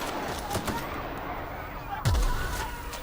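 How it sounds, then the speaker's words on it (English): Gunfire in the video game The Outer Worlds: a quick series of sharp shots and impacts over a dense combat mix, with a heavy low boom and sweep near the middle. "Did I just shoot more friends?"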